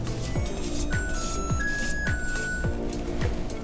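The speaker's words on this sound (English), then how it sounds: "That just tells me that my oven is preheated to 400 degrees. It sings to me now" A kitchen oven chimes to signal it has preheated to 400 degrees, a few sustained electronic tones sounding over a busy, clattering kitchen background.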